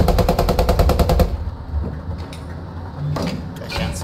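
A loud, fast burst of machine gun fire in the World War II game Post Scriptum, rapid even shots for over a second, then fading into quieter distant battle noise with a few faint later clanks.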